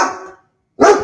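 Two loud, close barks from a dog amid thunder and lightning during chaotic scenes in Valencia, Spain, separated by a short silence, with no one talking.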